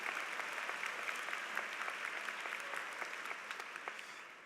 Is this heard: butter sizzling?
no